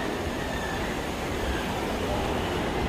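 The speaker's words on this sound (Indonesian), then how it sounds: "Saya mau naik kereta." Train at a station in Taiwan, heard as a steady, moderately quiet rail rumble with a faint high whine over it, continuous and without pauses.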